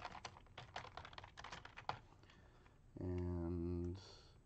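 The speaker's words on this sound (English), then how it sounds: "Let's go ahead and type this out." Typing on a computer keyboard, quick faint clicking keystrokes in a steady patter at close range, followed by a brief louder tonal beep near the end.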